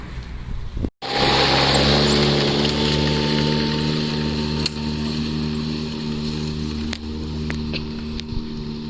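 A Toro 60V Flex-Force battery lawn mower starts up and runs mowing grass, with a steady loud whirring hum of the spinning blade close by and a few brief thumps.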